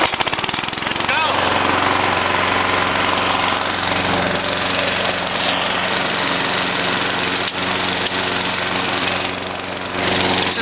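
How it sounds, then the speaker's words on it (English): A lawn mower runs steadily and loudly throughout, a close, droning engine hum with constant harmonics and no pauses. "Today, I'm mowing the lawn."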